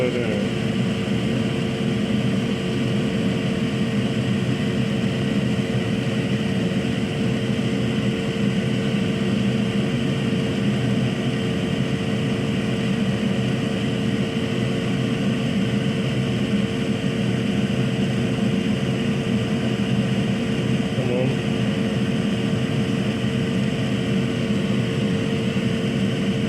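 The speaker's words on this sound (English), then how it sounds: "Always be sure to have your fume extractor on." Fume extractor fan running during soldering on a Nintendo GameCube internal battery replacement: a constant, close mechanical whir with a steady hum that persists unchanged for the whole stretch, with no speech.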